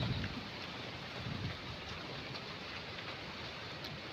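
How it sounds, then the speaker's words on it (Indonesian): Strong wind gusting through a home garden, a steady broadband rushing roar with a louder buffet near the start and no voices. "Anginnya sangat kencang sekali."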